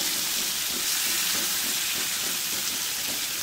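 Fish coated with tamarind fries in a pan, giving a steady, close hiss and sizzle of hot oil that stays constant and unbroken throughout, with no voices.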